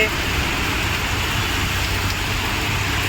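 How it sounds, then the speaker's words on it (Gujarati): Heavy rain pours steadily over Ahmedabad, a dense continuous hiss with a low rumble underneath, loud and unbroken throughout. "અમદાવાદમાં જોરશોરથી વરસાદ પડી રહ્યો છે"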